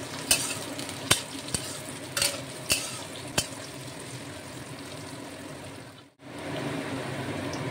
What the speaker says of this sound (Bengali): এখানে আমি পেঁয়াজ কলিগুলো দিয়ে দেবো। একটু ভেজে নেব।